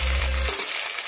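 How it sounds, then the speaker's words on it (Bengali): A fish head fries in a pan for muri ghonto, a loud steady sizzle with stirring throughout the short clip, the low rumble dropping away near its end. "প্রথমে মাছের মাথাটা ভালো করে ভেজে নিচ্ছি।"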